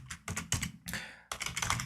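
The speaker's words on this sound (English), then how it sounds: "where I'm typing." Typing on a computer keyboard in short bursts of quick, close clicks and clacks separated by brief pauses, fairly crisp and alone without talk.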